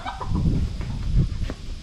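Several chickens, including Cream Legbar, Lavender Orpington and Black Copper Marans hens, cluck and squawk in a rapid, overlapping chatter at close range during unloading, with no talk over them.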